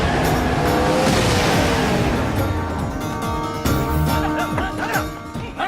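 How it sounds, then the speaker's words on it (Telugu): A car approaches over a busy comedy-film soundtrack, its engine and tyre noise rising close by and blending with the other scene sounds throughout. "రేయ్, ఆ రాజుగారి కారు వస్తుంది, వెళ్ళండి."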